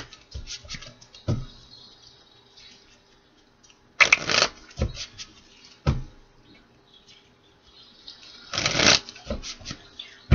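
Celtic Tarot cards being shuffled by hand in quiet surroundings, a few sharp riffling bursts separated by soft rustling and handling sounds.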